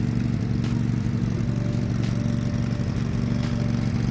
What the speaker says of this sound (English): I'm pretty sure the mower was actually running kind of funny because we probably forgot to pull down the choke.